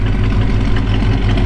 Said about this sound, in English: The truck sounds good,